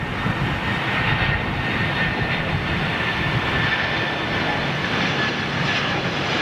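A jet airliner roars on a Heathrow runway, a loud, steady broadband rush of engine noise that holds without letup throughout.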